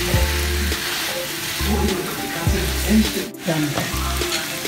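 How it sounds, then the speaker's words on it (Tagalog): Onions sautéing in a pan for chicken adobo braised with cola, a steady loud sizzle and frying hiss broken by bursts of stirring, with a brief spoken word. "Gisa natin na kunti yan. Kasama yung sibuyas."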